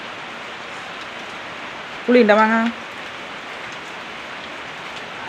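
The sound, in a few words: heavy rain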